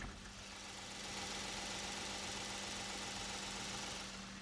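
A Genesis G70 sedan engine idles steadily with the hood open, a quiet, even hum with a faint low throb and no other sounds.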